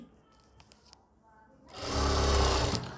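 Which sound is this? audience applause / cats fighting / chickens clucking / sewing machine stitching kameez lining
sewing machine stitching kameez lining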